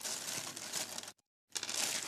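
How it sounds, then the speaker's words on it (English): A plastic bag is rummaged through at close range, with continuous crinkling and rustling that stops for a brief moment and then starts again. "Get to watch me dig around in a plastic bag for a couple of seconds."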